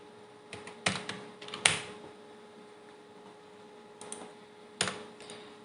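Quiet computer keyboard typing while writing C++ code: a few sparse, isolated key clicks spread out over a faint steady hum.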